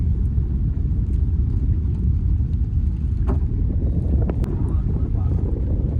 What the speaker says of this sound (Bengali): প্রচুর বাতাস উঠেছে হাওয়া হচ্ছে